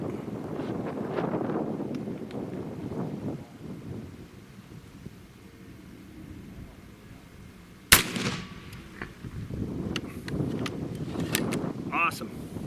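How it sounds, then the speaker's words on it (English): A Zeus .72 caliber air rifle fires a 580 grain slug once, a single loud sharp crack that stands out after quiet, wind-buffeted stretches outdoors with no one talking. "we're going to go ahead and shoot 3 shots"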